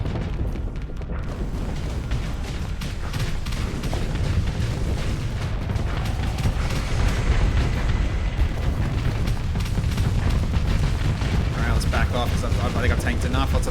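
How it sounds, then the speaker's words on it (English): Missile launches and explosions in the space combat game Starsector, a dense, continuous barrage of booms and bursts filling the whole stretch at steady loudness, with a voice talking over it. "missiles away"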